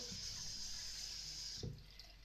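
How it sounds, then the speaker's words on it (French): Hot tap water runs steadily into a sink as makeup remover wipes are rinsed under it, a close continuous hiss that cuts off near the end, leaving a few faint handling knocks. "Un petit peu d'eau chaude, je les passe sous l'eau."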